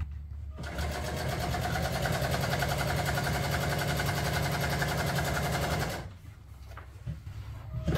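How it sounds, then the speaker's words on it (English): Sewing machine running steadily for about five seconds while stitching the bottom skirt of a truck seat's upholstery, a fast loud mechanical chatter that stops abruptly, followed by quieter handling noise. "let's just go ahead and sew up this bottom skirt"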